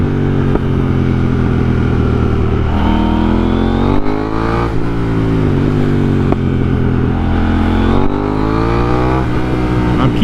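A KTM Duke 890R motorcycle revs hard during wheelie practice, its engine loud and close with repeated rising throttle pulls, brief dips between runs, and wind buffeting throughout.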